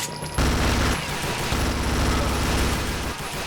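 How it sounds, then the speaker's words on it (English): The experimental chain gun in Brutal Wolfenstein 3D fires a fast, loud, continuous burst of rapid shots that runs for about three seconds, starting abruptly after a short pause. "the most powerful bullet weapon in the game, the experimental chain gun."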